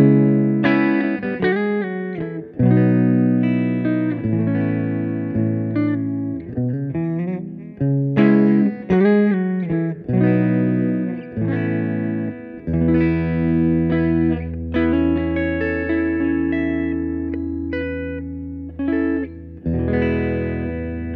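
An electric guitar plays clean, ringing chords and melodic notes through a modeled 1971 Twin Reverb amp with reverb, with sustained low notes in the second half.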